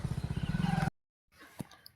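A Hero Splendor motorcycle engine runs with a loud, throbbing idle for about a second, then cuts out abruptly, leaving faint background noise.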